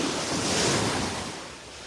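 Ocean waves wash onto the beach at Delnor-Wiggins on a calming morning, a loud, steady hiss of surf with some wind rush and no talk.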